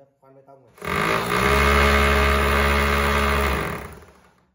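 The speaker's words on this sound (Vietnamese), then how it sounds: "Đây là nấc khoan bê tông này." A 3-function 220V rotary hammer with speed control and no reverse, run in concrete drilling mode, whirs up loudly after a faint start, holds a steady dense motor roar for nearly three seconds, then winds down.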